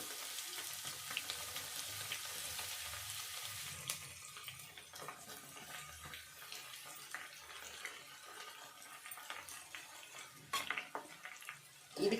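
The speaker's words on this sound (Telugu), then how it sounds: "ఈ సగం అంతా తాలింపుకి వేసుకోవాలి కొంచెం కొంచెం వేసుకోవాలి ఎందుకంటే పొంగుతుంది నూనె" Garlic and chili are tempered in hot oil for a lemon chili pickle. A steady, hissing sizzle runs throughout, with faint clinks of utensils and a louder spattering burst near the end.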